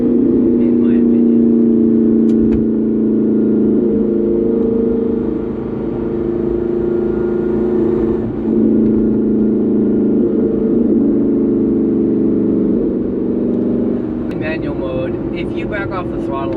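Aston Martin Vantage engine in manual mode with the SportShift II transmission, a steady loud drone that holds and dips slightly as it shifts, with a brief rise near the end.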